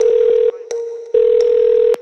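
A telephone produces a steady dial tone, broken twice by short gaps with faint clicks, the tone resuming loud and close each time.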